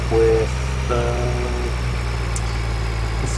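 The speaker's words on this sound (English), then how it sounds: "So, let's drive this tractor over to the silos." A tractor in a farming video game with a realistic mod runs as a steady low engine drone near at hand. A tonal mechanical whine rises briefly and fades over the idling rumble.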